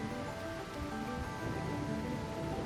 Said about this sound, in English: Yeah! Rain!